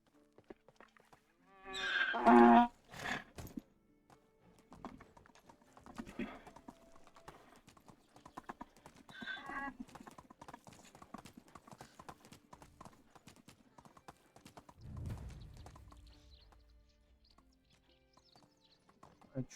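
Donkey hooves clip-clop in a series of uneven hollow taps, with a louder burst near the start, fading in and out at moderate distance with other noises around them.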